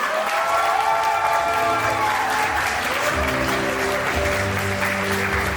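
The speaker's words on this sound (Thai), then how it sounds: "ขอเสียงปรบมือ" An audience at a business awards recognition event applauds steadily, producing a dense, continuous wash of clapping with faint crowd murmur and a few cheers, fairly loud throughout.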